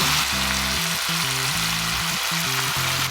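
Shallots, carrot and fingerling potatoes sizzle steadily in a pot for a betel leaf pot roast chicken, a close, continuous frying hiss with a low hum underneath.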